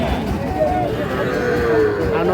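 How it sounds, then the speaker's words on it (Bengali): A Sahiwal bull calf at a busy village cattle market gives a low, drawn-out moo, partly buried under the constant chatter and hubbub of the surrounding crowd. "শাহিওয়াল সার বাছুর"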